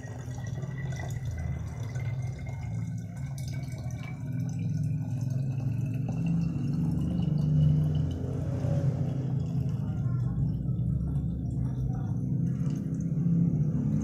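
Half a liter of liquid poured into a measuring container, a steady close splashing fill with low rumble and faint rising ring as the level climbs, continuing without talk.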